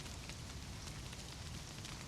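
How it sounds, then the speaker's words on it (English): Rain sound effect playing in a roleplay, a faint, steady hiss of falling rain with a dense, even texture and no breaks. "Sorry, I'm having a hard time hearing you in the rain."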